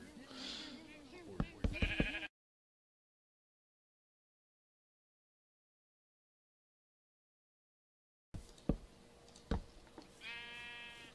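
Sheep bleating in a Minecraft-style video game, short bleats near the start and again near the end around a long silent gap, alongside a voice.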